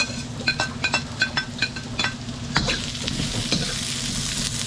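Onions sizzle in a hot pan while a utensil stirs them, giving rhythmic scraping knocks over a steady frying hiss that thickens toward the end, with no talking.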